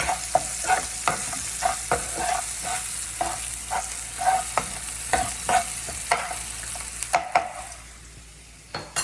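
Okra (ladies finger) stir-fries in a pan, a steady sizzle broken by regular, close scraping strokes of a spatula that stop just before the end, leaving a softer hiss with no talking.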